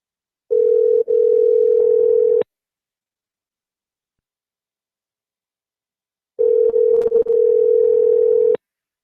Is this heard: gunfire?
no